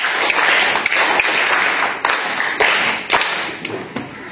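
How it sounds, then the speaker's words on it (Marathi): Children in a village primary school classroom clap for a classmate, a dense, steady patter of many small hands with a few sharper slaps, continuous for about four seconds with no talking. "बरं, राजश्रीसाठी सगळ्यांनी टाळ्या वाजवा."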